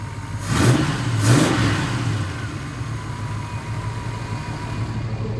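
A 1933 Ford flathead engine revs twice in quick bursts, then settles into a steady, throaty idle close to the microphone.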